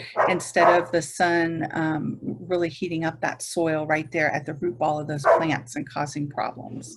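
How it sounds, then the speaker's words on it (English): Dogs bark and yip in the background while someone talks steadily over them. "And again, I apologize for the dog noise."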